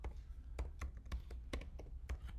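Quick, uneven keystrokes on a computer keyboard, a string of close, crisp taps with short pauses between bursts, no voices.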